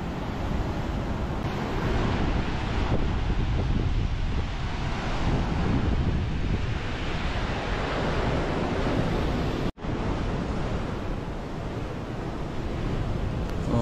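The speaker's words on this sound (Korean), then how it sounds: "이날은 바람도 세고 파도도 높아서 해안로로 산책하기에 조금 불안했습니다" Strong wind buffets the microphone over high waves crashing along the Igidae coastal walking path, a loud, steady broadband roar that continues for the whole stretch, with only a momentary dropout near the end.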